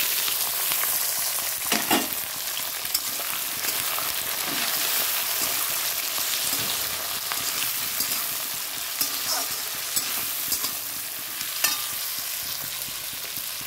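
Onions, tomatoes and green chillies fry in a pan with a steady broadband sizzle, broken by a few sharper clicks and scrapes of stirring; no voices.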